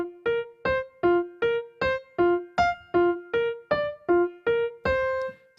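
Piano playing the melody of a song without the sustain pedal: a steady sequence of short, detached notes, each clipped off before the next, close and clean with no talking.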